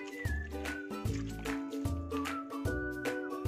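Pancit Mickey noodles rinsed in hot water to wash off salt and oil, giving close, steady splashing and dripping with squishy handling and soft sloshes in a repeating rhythm.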